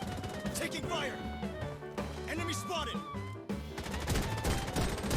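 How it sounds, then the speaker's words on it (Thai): Gunfire crackles through a battle in the mobile FPS game BloodStrike, with rapid bursts and distant shots running steadily beneath game music and someone talking over it. "ตรงนู้นมีการยิงกันอยู่นะฮะ"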